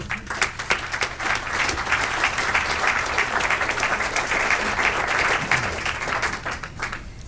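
Lecture audience applauding, dense sustained clapping from a large crowd that holds steady for several seconds and then starts to thin out toward the end.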